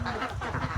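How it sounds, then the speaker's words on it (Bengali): Ducks at a poultry hatchery in Assam quacking in quick overlapping bursts, close and fairly loud, with no talk. "হাঁস"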